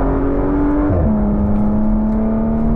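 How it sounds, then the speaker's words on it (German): A Porsche Macan GTS with a V6 engine and PDK gearbox drives at a steady pace, its engine note droning loud and constant from inside, with a brief pitch dip as it shifts. "V6 klingt wunderbar,"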